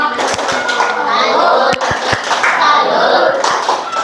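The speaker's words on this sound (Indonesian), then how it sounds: "Tepuk tangan untuk kelompok royong" A class of children claps for a group of classmates, a lively round of close hand claps with a few sharper individual claps and children's voices mixed in.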